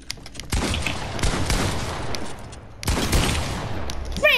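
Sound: gunfire from shooting an opponent in the video game Fortnite

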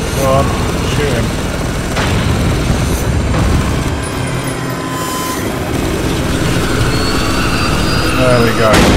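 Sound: helicopter going down in the video game Spec Ops: The Line

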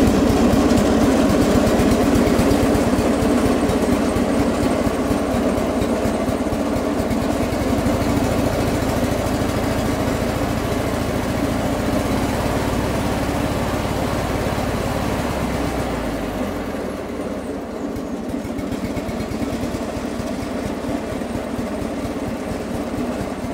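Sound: opposed twin flathead engine starting and idling

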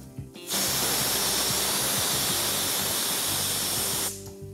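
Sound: pressure cooker whistle releasing steam

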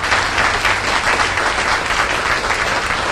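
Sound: applause from audience

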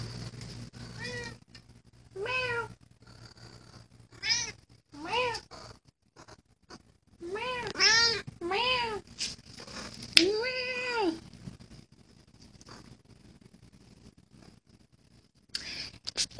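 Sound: cat meowing

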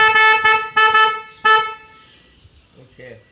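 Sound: snail car horn honking

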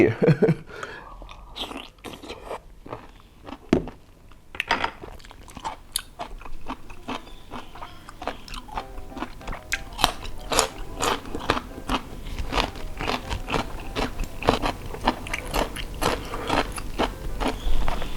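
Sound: eating big crunchy cockles

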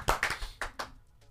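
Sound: audience applause for a woman

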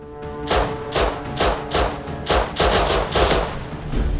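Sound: gunfire in the video game Rust

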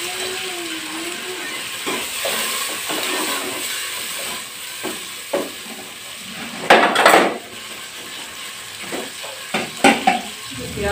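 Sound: chopped onions sizzling as they are added to hot oil

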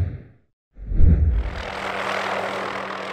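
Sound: helicopter flying over mountains to catch deer

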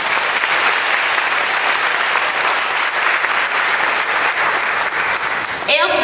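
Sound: audience applauding at school honors day

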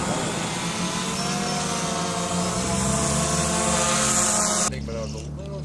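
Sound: quadcopter drone coming down to land

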